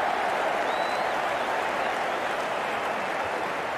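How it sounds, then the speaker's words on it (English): At a playoff qualifying match, an excited crowd applauds and cheers in a dense, steady roar of clapping with no breaks or rise, close and loud throughout. "It's going to be hard for the bowler to focus with the crowd this excited."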